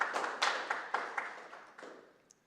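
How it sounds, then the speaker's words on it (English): A small symposium audience gives a brief round of applause for a presenter, a cluster of scattered claps that quickly thins out and fades to near silence within a couple of seconds. "round of applause for her presentation"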